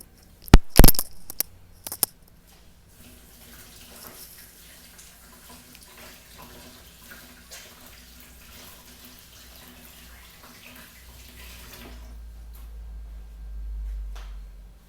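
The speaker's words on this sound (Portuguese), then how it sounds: "Vou só lavar minha mão e volto." Hands are washed under a running tap in a home kitchen during pastry making, with a few loud knocks and clatters at the start, then a low, faint stream of water that swells toward the end.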